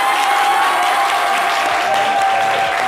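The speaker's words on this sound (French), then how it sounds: "Merci de l'applaudir encore bien fort." An audience applauds loudly for a guest of the Zouglou Revolution group, a thick, sustained roar of clapping with a steady tone and faint cheers in the mix.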